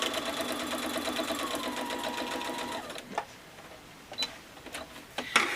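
Sewing machine stitching quilt pieces, a fast steady mechanical whirr of close needle strokes for about three seconds, then stopping, followed by a few faint clicks and handling taps.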